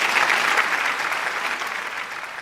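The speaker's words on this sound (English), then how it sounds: "Is that applause for me thinking?" Studio audience applause during a busy sports talk show, a steady dense wash of clapping at moderate loudness throughout, with no voices over it.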